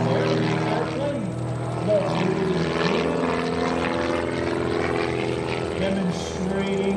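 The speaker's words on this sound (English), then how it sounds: "Demonstrating the art of precision aerobatics here. 230 horsepower up front." A 230-horsepower propeller aerobatic airplane drones overhead at an airshow, its engine pitch rising and falling through manoeuvres, heard from the ground at moderate distance with announcer-style talk over it.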